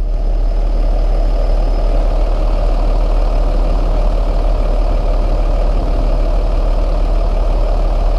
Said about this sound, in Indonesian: Bunyi mesinnya tuh mantap.